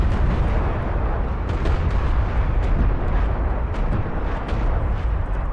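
Conf missiles exploding in a strategy video game, a continuous dense rumble of blasts and impacts, loud and steady with scattered sharper cracks throughout.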